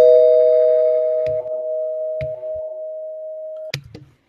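A spoiler bell sound effect: a steady electronic ring holds for nearly four seconds, broken by a few soft knocks and clicks, then cut off by a sharper strike near the end.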